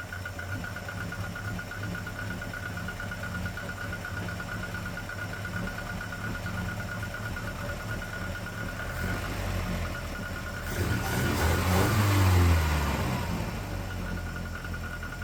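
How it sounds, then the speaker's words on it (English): A small engine with heavy piston slap idles with a steady knocking rattle, then revs up briefly, the slapping clatter growing louder before settling back. "the obvious downside is the piston slap. It is so loud."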